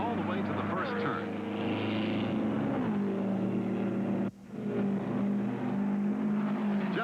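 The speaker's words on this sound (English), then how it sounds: "It's a drag race all the way to the first turn." Race cars at the 1972 Indy 500 roar steadily as a sustained, loud engine drone with a brief dip midway, heard under continuous commentary.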